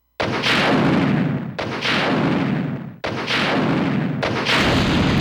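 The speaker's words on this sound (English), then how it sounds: "Then we just circle around, grab the rocket launcher." Loud explosive blasts from a rocket launcher in the PlayStation game Resident Evil 2, four heavy booming detonations in close succession, each with a long roaring decay, with no talking.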